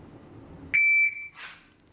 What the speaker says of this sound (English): This is a pack timer and it has a delayed start, about 3 seconds.